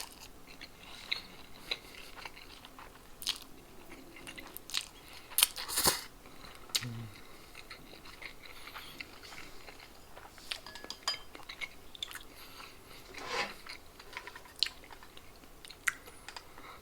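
Pancit canton noodles being eaten, with soft close chewing, occasional faint utensil clinks and a few brief louder sounds, quiet and without speech.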